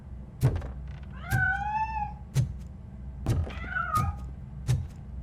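A cat meowing in RoboCop: Rogue City, two drawn-out rising-and-falling meows, clear and close, interleaved with sharp periodic thuds.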